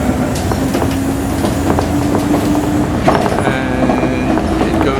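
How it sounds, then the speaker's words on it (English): A monorail train runs between Hamamatsucho and Haneda Airport in Tokyo, with a steady loud rolling rumble and faint rhythmic clicks and squeaks from inside the car, and no talk. "And it goes along from Hamamatsucho to the Haneda Airport."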